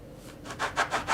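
A knife slicing through harcha semolina flatbread dough, giving four soft, evenly spaced scraping cuts close by in a quiet kitchen.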